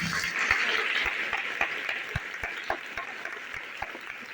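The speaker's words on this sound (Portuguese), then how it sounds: "Aplauda essa verdade." A church congregation at a Pentecost sermon applauds together, a dense steady patter of clapping that holds for a few seconds and starts to thin toward the end.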